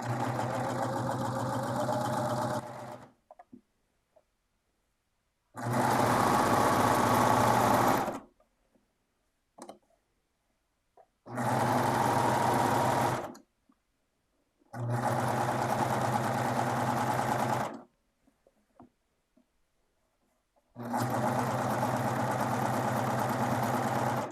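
A sewing machine stitches in the ditch of a quilt seam in four or five steady bursts of a few seconds each, separated by silent pauses, close and moderately loud with no talking during the runs.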